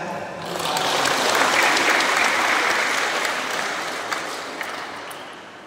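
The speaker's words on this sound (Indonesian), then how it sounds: "Maka mari kita semua tepuk tangan" Steady, fairly loud audience applause at a wedding anniversary celebration, swelling over the first seconds and then slowly thinning out, a dense wash of many clapping hands without speech.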